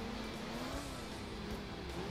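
Steady car engine droning in the driving game Alarm für Cobra 11 Crash Time, a red sports car chasing a thief, with a continuous hum that slowly rises in pitch as it accelerates, no voices.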